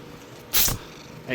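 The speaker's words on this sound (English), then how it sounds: "Hey, no sneezing." A single short, sharp sneeze from a cat, close by, followed by a brief faint noise.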